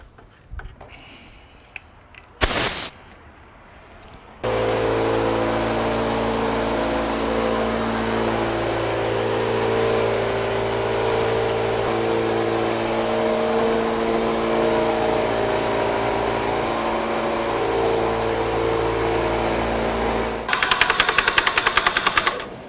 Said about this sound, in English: So back to a cup gun, and then after this, back to the airless again.